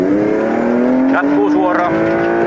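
A rally car at the Nivala Kapinaralli 2022 pulls away from the start with a loud, steady engine drone that climbs in pitch as it accelerates, heard from inside the car while a co-driver speaks over it.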